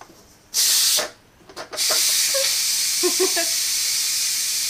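A pressure cooker holding country style pork ribs vents steam in a loud, close hiss, first a short burst, a pause with clicks and rattles, then a sustained rushing release.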